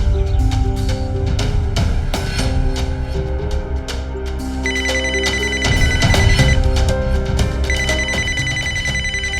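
A ringtone plays continuously over layered music, loud and steady with no one talking.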